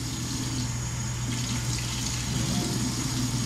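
Water runs steadily into a measuring cup, a continuous close splashing pour filling the small cup in two quarter-cup portions, with no talk over it.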